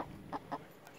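Two short, soft clucks from a chicken, close together and fairly quiet, with no other sounds around them.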